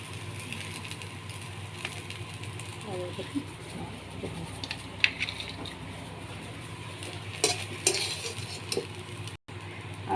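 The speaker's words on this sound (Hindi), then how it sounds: "सब लगे देना सोयाबीन के बढ़िया फ्राई हो गला।" Soybean chunks and potato fry in hot oil in a kadhai, a quiet steady sizzle broken by occasional scrapes and light metallic taps of the stirring spoon.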